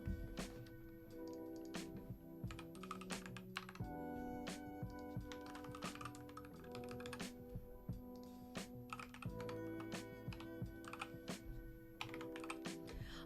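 Continuous typing on a computer keyboard, rapid key clicks in an irregular rhythm, close and steady throughout with no voices.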